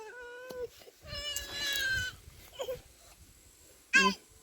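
A wet cat meows several times close by outdoors: a drawn-out wail, then shorter cries ending in a sharp final meow, with a brief human voice in between.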